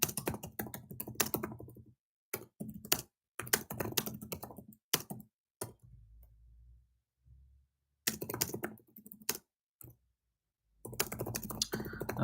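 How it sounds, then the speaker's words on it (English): Someone types a message on a computer keyboard, making bursts of quick close key clicks broken by silent pauses, with a softer gap in the middle. "so we can type out that message"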